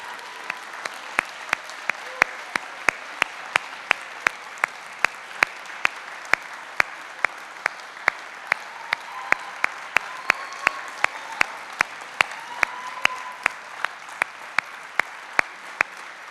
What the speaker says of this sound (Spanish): si aplaudimos a nuestro Señor Jesús y le ovacionamos.